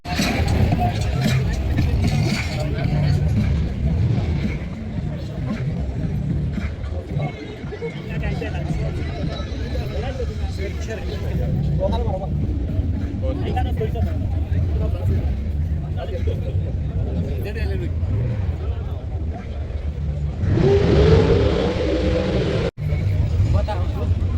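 Busy road traffic with many cars in Qatar, a continuous wash of passing engines and tyre noise close by, with people chatting over it and a brief louder burst near the end.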